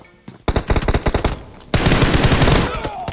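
Automatic M4 rifle fire in the mobile battle royale game BGMI: a rapid string of close, loud shots, a brief pause, then a denser sustained burst running to the end.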